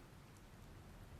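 Steady rain falling in the video game Stellar Blade, a dense even hiss with soft low patter throughout, fairly faint and continuous with no voices.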